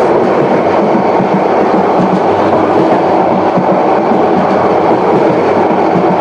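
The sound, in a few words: Subarna Express train running through Akhaura Junction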